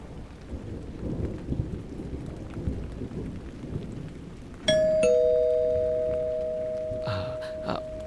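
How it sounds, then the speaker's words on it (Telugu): Steady rain patters for the first few seconds, then a loud two-tone doorbell chime rings out and fades slowly, followed by a couple of short knocks or thumps near the end. "ఓహ్! పైన వర్షం పడుతుంది."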